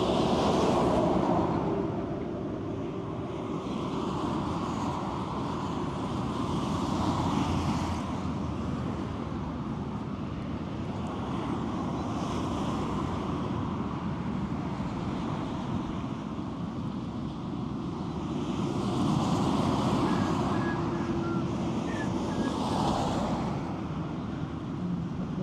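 Outdoors, wind blows steadily over a roadside spot in Osnabrück, Germany, a broad rumbling rush that swells and eases in gusts for about twenty-five seconds, with no one talking.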